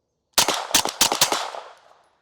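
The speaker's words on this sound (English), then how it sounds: "Obviously that was a few rounds, rapid fire." A B&T TP9 pistol fitted with a short-stroke trigger fires four quick, sharp rounds in rapid succession on an outdoor range, each report loud and close, with a trailing echo fading afterward.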